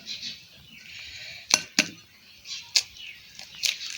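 Spoon or utensil clinks against a bowl while bread shami kabab mixture is stirred, giving a few sharp, separate taps over a soft, steady scraping.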